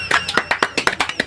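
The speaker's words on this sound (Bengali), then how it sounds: "সবাই হাততালি" People clap at a comedic wedding, with a run of sharp, close hand claps at an irregular beat and lively voices sounding under the claps.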